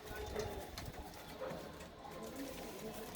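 Soft pigeon coos repeat through the clip against a busy background in Ludhiana, with someone talking over them.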